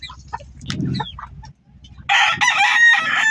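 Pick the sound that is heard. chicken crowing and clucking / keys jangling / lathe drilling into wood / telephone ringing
chicken crowing and clucking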